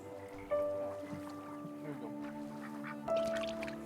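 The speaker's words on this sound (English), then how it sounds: "Let's feed a duck." Ducks at a pond in the That Dragon, Cancer video game quack and honk faintly in a few short calls over a quiet ambient background, with soft voices nearby.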